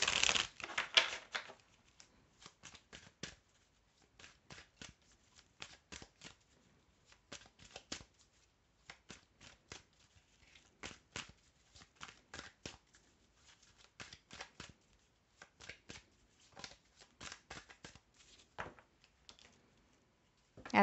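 A deck of tarot cards being shuffled and cut, quiet, close-up rapid riffling and flicking clicks in irregular bursts over about twenty seconds, with a louder flurry at the start and no voices.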